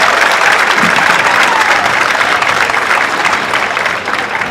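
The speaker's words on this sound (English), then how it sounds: "One more time, nice round of applause for our senior band" A school audience at an elementary school winter concert applauds the senior band in a loud, dense burst of clapping that goes on without a break, then fades slightly at the end.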